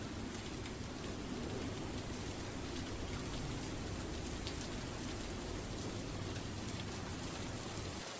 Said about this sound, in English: Ooh, is that how the rain loops?